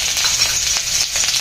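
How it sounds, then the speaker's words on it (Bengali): Half a teaspoon of grated ginger sizzles in hot white oil in a kadai, a steady, close hiss of frying with no talk, held for a short moment. "তেলটি গরম হয়ে গেলে দিয়ে দিন 1/2 চা চামচ গ্রেট করে নেওয়া আদা।"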